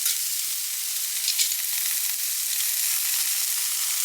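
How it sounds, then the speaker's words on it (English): Asparagus and crushed garlic sizzle steadily in a frying pan with chicken sausages, a constant bright hiss of hot oil close up, with a faint stir partway through and no voices. "next we add in the asparagus and the garlic"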